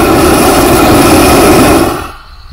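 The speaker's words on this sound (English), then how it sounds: "turn that up till you got your desired flame" A Weed Wand propane weed torch burns with a loud, steady roaring hiss close by, then the flame drops back toward idle and the roar fades near the end.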